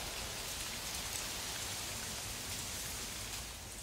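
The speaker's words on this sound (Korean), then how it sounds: "빗소리가 계속 반복이 되는 거예요, 여기." Steady rain falls evenly and softly, a continuous hiss of drops with no pauses and no voices.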